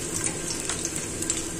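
Chopped onion hits a hot pan and fries with a steady, close hissing sizzle throughout, with no voices over it.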